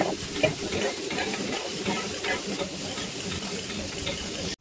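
Chopped onion fries in a pan for a prawn biryani gravy, giving a steady close sizzle and hiss with occasional stirring scrapes throughout, and no talking.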